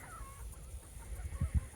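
Chickens clucking about fifty yards off beside a tall-grass field, with a couple of short, low clucks late on over faint outdoor background.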